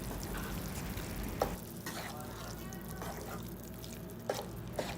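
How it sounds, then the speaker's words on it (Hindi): Tomatoes cooking with turmeric, red chilli and ground coriander for masala kaleji sizzle and fry steadily in a pan, with a few brief stirring clinks over the constant hiss. "पकने देंगे हम इसको, क्योंकि टमाटर अब अपना पानी छोड़ेंगे जिसको हमने सुखाना है।"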